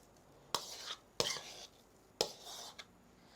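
A spoon pushing cheese filling into pastry in a Mykonos kitchen, three sharp scraping clicks against the dish, each followed by a softer smear, close and quiet with little else around.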